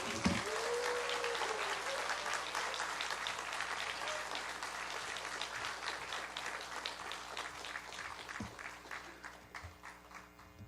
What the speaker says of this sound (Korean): 우리 가장 뜨거운 박수로 우리 안희열 목사님을 환영하겠습니다